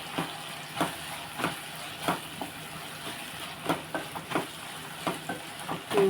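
Tomato curry mixture with ginger-garlic paste and chili powder frying in a pan, a steady low sizzle punctuated by repeated stirring knocks and scrapes at an uneven rhythm, close by with no talking.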